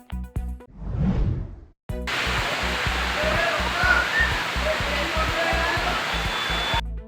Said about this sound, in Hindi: पिथौरागढ़ नगर के भाटकोट रोड का पानी सड़कों पर बहते हुए झूलाघाट रोड को जोड़ने वाले पैदल मार्ग पर आ रहा है